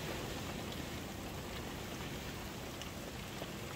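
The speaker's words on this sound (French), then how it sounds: "Ça pleut." Dense, even rain pours down through a windy storm, a constant loud wash of drops on surfaces with a few sharper hits, no voices.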